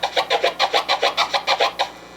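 Clean chirp scratches on a turntable, about a dozen quick, evenly spaced bursts in a steady rhythm, close and alone before trailing off.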